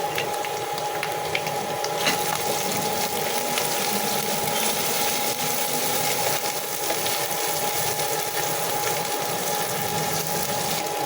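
Water used to rinse a grinding stone is poured into a pan of ground spices (garam masala, coriander, chilli, turmeric) for a pumpkin curry, giving a steady, close sizzling and bubbling hiss throughout with no talking.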